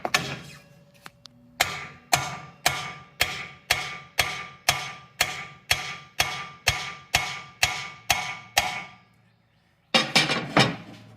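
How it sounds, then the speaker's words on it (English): A big hammer strikes the steering tie rod end of a 1976-1980 Chevy 4x4, about a dozen sharp, evenly spaced metallic blows ringing out close and loud, followed by a short pause and a quick final flurry of hits. "I'll take a little BFH here, big hammer,"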